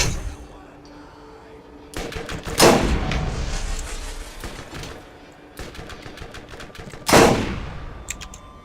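Heavy shotgun blasts in Borderlands, a couple of loud booming shots with trailing echoes mixed with other gunfire, while someone talks over the action.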